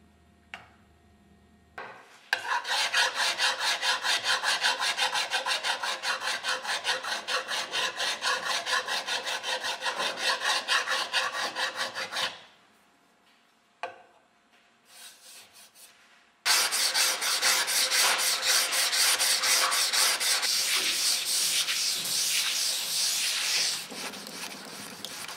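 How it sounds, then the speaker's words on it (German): Steady rhythmic rasping of fine files and abrasives smoothing an uneven Boulle marquetry surface up close, in two long sustained bouts separated by a brief quiet pause. "Die unebene Oberfläche wird mit feinen Feilen und diversen Schleifmitteln geglättet."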